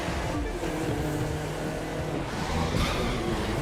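A Datsun's engine roars steadily during a street race in The Crew 2, a continuous loud drone with tire and road noise underneath.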